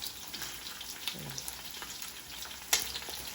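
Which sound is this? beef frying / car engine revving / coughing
beef frying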